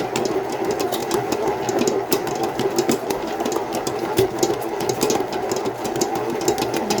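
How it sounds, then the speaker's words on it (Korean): Bread dough made with milk instead of water thumps and slaps rhythmically inside an electric mixer during kneading, a continuous close mechanical whir with rapid soft knocks. "반죽에 살짝살짝하고 부딪히는 소리"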